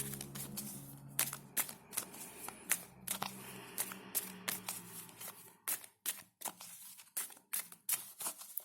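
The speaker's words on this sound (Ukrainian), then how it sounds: "Дуже люблять ці карти, коли їх мішають довго." Tarot cards being shuffled repeatedly, a rapid series of crisp flicks and riffles close up, with brief pauses between bursts.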